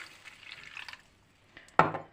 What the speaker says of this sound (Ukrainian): виливаємо оцю всю воду